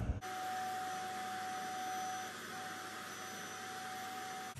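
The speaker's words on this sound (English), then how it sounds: "I'm going to use the blower again" A blower clears drilling dust from a hole in an AAC brick wall, a continuous whirring hiss with a steady tonal whine that starts and stops sharply.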